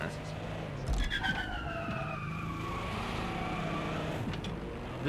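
A manual-shift car engine in Watch Dogs: Legion whines steadily, its pitch climbing and then dropping sharply with each gear change; a faint siren-like wail sits in the background.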